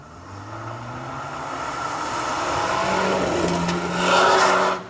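A rally car on the RAC Rally charges past at speed, its engine note rising and swelling as it nears and peaking loudly close by before the roar cuts away.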